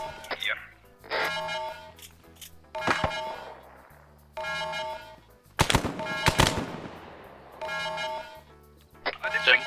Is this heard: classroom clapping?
no